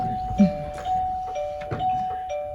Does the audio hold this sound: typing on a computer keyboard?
no